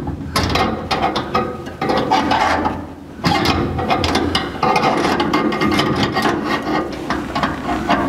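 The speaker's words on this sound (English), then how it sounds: "We'll put the clevis on the end of the push rod and screw it in." A clevis being screwed onto the brake push rod of a 1949 Chevrolet gasser during a Speedway brake pedal and master cylinder install, heard as steady close metallic ratcheting and threaded scraping, continuous and fairly loud.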